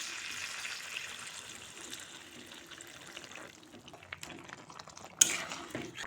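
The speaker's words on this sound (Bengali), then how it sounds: "এখন দিয়ে দেব অল্প জল" A small amount of water is poured into a pan of chicken kosha, producing a soft, faint hissing pour close by, followed by a few light splashes and one sharp clink.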